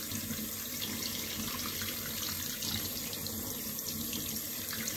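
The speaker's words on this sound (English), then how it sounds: "So I get my cold tap on a reasonable pressure and I start off at the outside and I simply rinse it." A cold water tap at moderate pressure runs steadily while a vinyl record is rinsed under it, a constant close hiss of flowing water with no speech.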